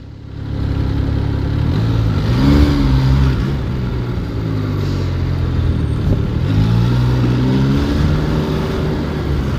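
A 2021 MV Agusta Turismo Veloce 800 RC SCS motorcycle accelerating hard, its engine rising through the revs in loud, close, rising sweeps with brief dips at gear changes, and no talk over it.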